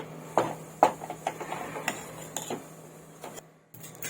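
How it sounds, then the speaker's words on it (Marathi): Mango-juice modak dough is stirred in a pan, and the spoon clatters and scrapes against the metal in irregular knocks. Close metallic ticks alternate with soft scraping before a brief silence near the end. "चांगलं असं ढवळून घ्यायचं हे पहा चांगलं असं मिक्स करून घ्यायचं आहे"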